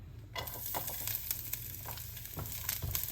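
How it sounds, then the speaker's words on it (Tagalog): Garlic dropped into hot cooking oil in a pan, a sudden loud crackling sizzle that starts after a brief quiet moment and keeps popping and hissing steadily, close up. "Mainit na yung ating mantika, ilagay na natin yung ating bawang."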